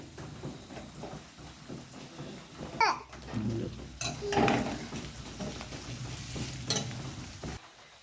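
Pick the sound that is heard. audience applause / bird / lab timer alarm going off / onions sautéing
onions sautéing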